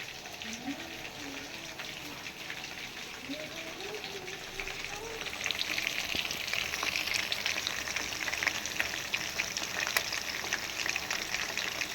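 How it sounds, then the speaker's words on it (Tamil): Chicken pieces frying in ghee with biryani masala, a steady dense sizzle that grows louder partway through, with faint talk in the background. "சிக்கன் வேகுது"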